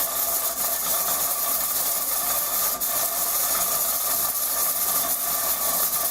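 A pressure cooker on the stove cooking beef stew lets out a constant loud, steady hiss with a faint rattling undertone, close by and with no talking.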